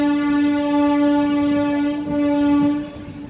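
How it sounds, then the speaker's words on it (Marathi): Harangul–Pune special fare superfast express train at Kem station, a loud sustained horn blast over rumbling carriages, steady and close, fading slightly at the end. "केम रेल्वे स्टेशनवर पोहोचली आहे आपली Harangul Pune special fair superfast express"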